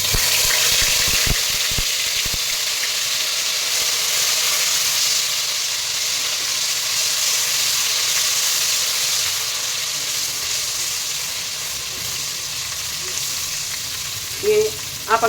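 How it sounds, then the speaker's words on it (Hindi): Ginger and garlic sizzle in five to six tablespoons of hot oil, a steady close crackle with a few sharp stirring clicks at the start and a brief clatter near the end. "ये देखिए तेल मैंने ले लिया है 5 to 6 टेबलस्पून, उसमें मैं ये सबसे पहले अदरक लहसुन डाल रही हूँ।"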